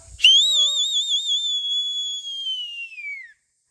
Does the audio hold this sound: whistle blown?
yes